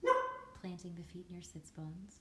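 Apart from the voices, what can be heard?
dog barking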